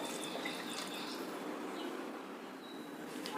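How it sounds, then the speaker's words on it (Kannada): Water streams steadily into a pot of rice being cooked for biryani, a soft continuous pouring and trickling sound, fairly quiet and close, with no speech. "ಈಗ ನೀರು ಹಾಕ್ತಾಯಿದ್ದೀನಿ. 1ಕ್ಕೆ 2 ಅನ್ನೋ ಪ್ರಪೋರ್ಷನಲ್ಲಿ ನೀರು ಹಾಕ್ತಾಯಿದ್ದೀನಿ."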